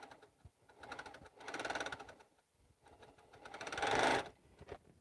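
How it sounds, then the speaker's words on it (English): A sewing machine stitching quilt pieces in quick bursts of rapid mechanical clatter, running twice for about a second each with quiet pauses and small clicks between, close and fairly soft. "We're just gonna sew so we can get a few pieces done"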